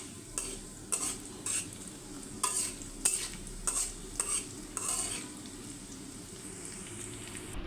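Oil left over from frying fish heats in a kadai, a soft background sizzle broken by a regular series of brief scraping stirs, close and fairly quiet, with no talking.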